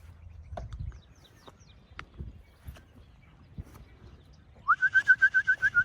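Near the end a rapid run of about eight loud, evenly spaced fluttering chirps rises out of quiet background rustle and faint scattered knocks, as homing pigeons come back and drop into their trap.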